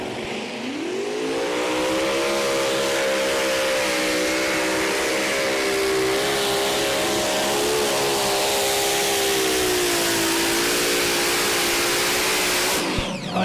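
A Hemi Power pulling tractor at the ETPC tractor pulling event in Putten, Holland, roars at full throttle in one long, loud, sustained engine howl that holds steady for about twelve seconds before cutting off abruptly.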